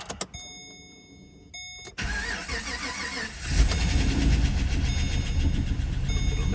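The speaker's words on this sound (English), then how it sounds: "A lifter clatter" A 2013 Chevrolet Caprice PPV with an LS9 camshaft cranks and fires, then settles into a running idle with a rough, ticking lifter clatter. Tones chirp briefly beforehand, and the engine grows louder and steadier after catching.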